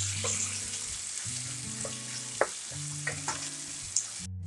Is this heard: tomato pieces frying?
yes